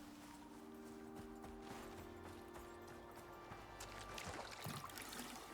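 A horse's hooves clip-clop in the survival video game Icarus, a faint, loose run of knocks over a steady hum of game ambience and tones.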